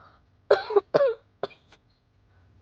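A person gives a few close, sharp coughs in a quick burst, then a fainter cough and a short throat clear trail off, all against near silence.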